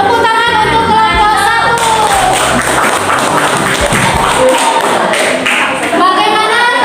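A classroom group applauds a presentation, with a steady wash of clapping from many hands that runs the whole time at a fairly loud level and blurs into a broad, even patter.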